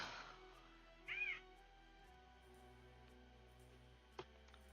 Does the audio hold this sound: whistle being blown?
no